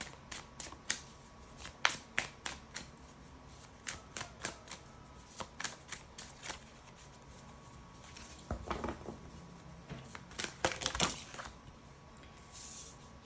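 Tarot cards are shuffled in quick bursts of soft riffling slaps, close and fairly faint, with a rhythmic run of flicks followed by a denser flurry of card noise toward the end.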